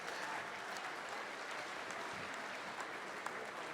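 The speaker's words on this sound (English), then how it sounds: "can you please give those first 3 heats of open shearers another round of applause?" Steady audience applause at the Golden Shears open shearing competition, a dense continuous clapping from a large crowd filling the hall, without pause.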